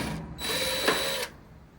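A power drill runs steadily for about a second while backing screws out of the rear panel of a Whirlpool/Roper washing machine, loud and close with a brief whine change midway, no voices.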